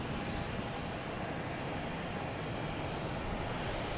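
A WestJet airliner arriving from Vancouver at Boston Logan airport gives a steady, broad jet roar, moderately distant and constant throughout, with no talk over it.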